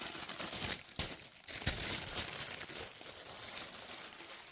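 Paper sewing pattern pieces for a Butterick B6875 garment being cut out, giving close, continuous crinkling and rustling with a few sharper crunchy bursts and no talking.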